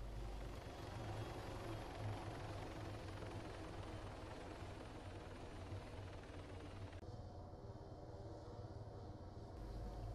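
A helicopter in the game ArmA 3 descending to land, its rotor and turbine drone steady and loud throughout, with a slight shift in tone near the end and no talk.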